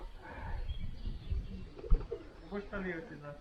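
Doves coo in low, rounded, repeated calls while people talk nearby.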